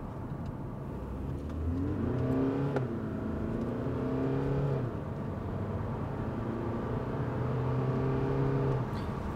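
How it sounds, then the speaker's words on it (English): A 2020 SEAT Leon FR diesel with a 7-speed DSG gearbox accelerates hard, its engine droning and rising in pitch through a gear change, then climbing again, heard steadily from inside the car. "Yeah, it's a little bit noisy if you're accelerating hard. It's a diesel"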